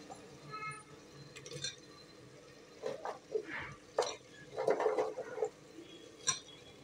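Carrot, potato and beans tipped into a pan for rice biryani, giving scattered clinks, scrapes and soft stirring clatter, fairly quiet and spread over several seconds in a home kitchen.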